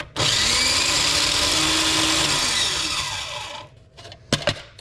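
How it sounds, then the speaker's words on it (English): A food processor grinds chopped bacon toward a powder with a loud, close whirring motor roar that runs steadily for about three seconds, winds down, and ends with a few sharp knocks. "Now I've transferred it to a food processor, and we're going to process it until it's more of a powder."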